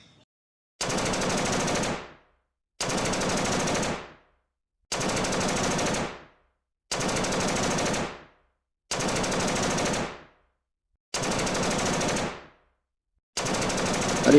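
Bursts of automatic gunfire from the horror video game Choo Choo Charles, seven loud sustained volleys of about a second and a half each, separated by short silent gaps, with no talking.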